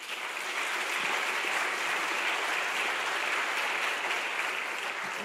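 An audience at a Slovak panel discussion gives dense, even applause that stays loud and continuous throughout.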